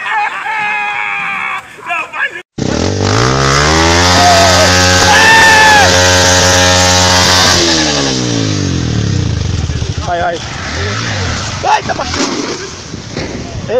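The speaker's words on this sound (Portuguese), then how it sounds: "vamos pegar a moto" A motorcycle engine revs loud and close, a steady roaring drone that sweeps upward and then falls away, as people shout and laugh nearby.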